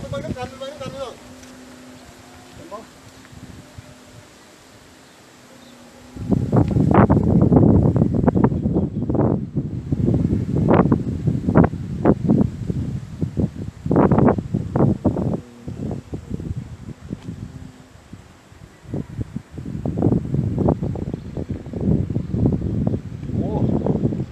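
Strong wind while flying a kite outdoors: a quiet stretch, then loud gusting wind buffeting the microphone in repeated bursts, with someone talking at times.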